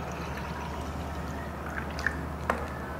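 Water is poured steadily into a container for an egg buoyancy experiment, giving a continuous, even trickling flow with a couple of brief splashy accents near the end.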